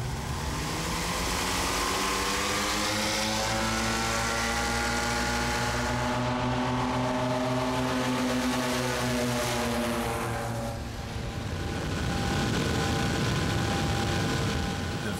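A vintage propeller airplane roars as it takes off, its loud engine drone rising and sweeping in pitch as it passes, then fading into rushing noise.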